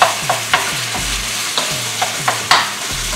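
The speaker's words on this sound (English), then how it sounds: "We're going to go ahead and just saute this until it's cooked." Chicken mince with green onion sautés in a hot pan, dressed with sesame oil and soy sauce. A steady sizzle runs under repeated scraping strokes of a spatula that come at an uneven pace, and no one speaks.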